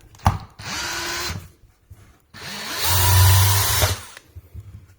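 DeWalt DCD778 cordless drill driving a screw, two close whirring bursts, a short one and then a longer, heavier run that bogs down under load, separated by a brief pause.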